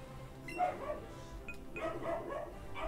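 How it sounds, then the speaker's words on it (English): A pet dog barks in the background, a few muffled yaps scattered across a quiet room with game sounds. "Oh, my dog's freaking out."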